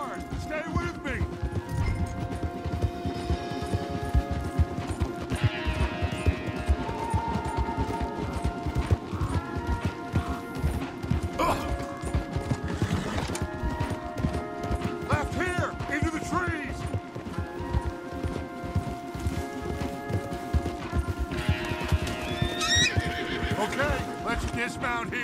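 Horses neigh and whinny over rapid galloping hoofbeats in a Red Dead Redemption 2 chase mission, a loud continuous rush with game music and spoken dialogue over it.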